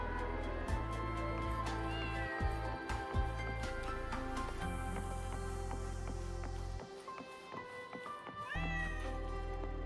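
Malma the cat meowing inside a neon-lit restaurant in the video game Wuthering Waves, several clear meows rising over a steady game music bed with sustained tones, no talking.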